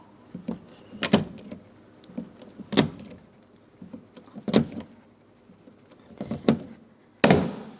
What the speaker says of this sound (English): Now it's time for our rivet, so I have my rivet gun ready.